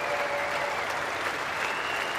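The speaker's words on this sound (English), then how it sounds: "Applause in the background from his teammates" Teammates applauding batsman Greg Blewett reaching fifty in a 1997 Australia versus New Zealand Test at Brisbane, a steady, fairly distant spatter of clapping throughout.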